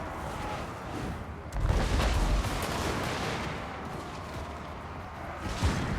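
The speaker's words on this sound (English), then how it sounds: "Well, the gunners are opening up." Dwarf gunners open fire in a Total War: Warhammer 2 battle, a burst of crackling volley fire rising suddenly and rolling on amid the din of combat, with another loud shot near the end.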